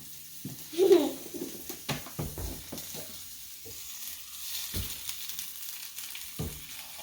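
Breakfast food sizzling in a hot pan while being stirred, with scattered scraping and tapping of a utensil over a faint background sizzle, a brief high voice-like sound early on.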